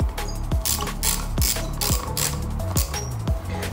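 Ratcheting clicks from a wrench tightening a bolt on a Skunk2 Pro 70mm throttle body on a K24-swapped DC5, coming in quick close bursts of rapid clicks with several sharp knocks between them.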